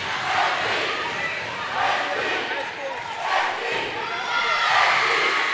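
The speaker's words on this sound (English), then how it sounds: "Again, the Ranger crowd very loud right now." A loud indoor crowd roars and yells continuously at a high school volleyball match, the noise swelling in waves and echoing as if in a gymnasium.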